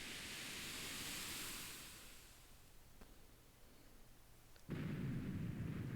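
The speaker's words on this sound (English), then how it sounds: "It's gonna go boom." An explosion in the video game Castlevania 64: a hissing, rumbling wash of noise fades, then a sudden dull blast bursts in and holds as a steady roar, fairly quiet overall, with no talking.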